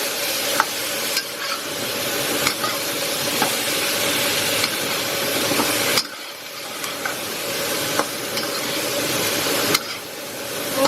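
Pork belly with oyster sauce and sugar is stirred in a hot pan for a crispy Thai dish, giving a steady sizzle and hiss broken by repeated scraping strokes of a spoon or spatula, close and with no talk.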